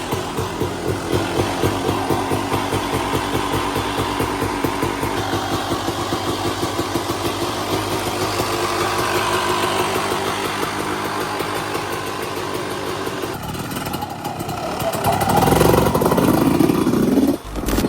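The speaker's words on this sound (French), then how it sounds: "ça y est, j'ai fait chauffer la bécane" A big two-stroke motorcycle engine idles while warming up, a loud, close, rapid popping putter that holds steady for many seconds before a surge of revving and rising roar near the end.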